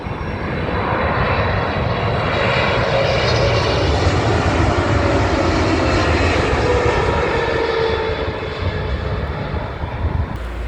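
A Qatar Airways Boeing 777 roars loudly and steadily at London Heathrow, a broad sustained engine rumble filling the whole stretch with no break.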